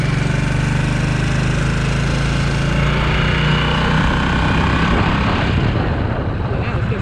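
A Harley-Davidson Nightster 975 motorcycle engine roars loud and close as the rider accelerates, a heavy, rumbling drone that climbs in pitch toward the end, with wind noise and some voice mixed in.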